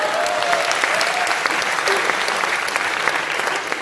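A crowd claps steadily, a dense wash of applause that stays loud and even throughout with a few faint voices mixed in.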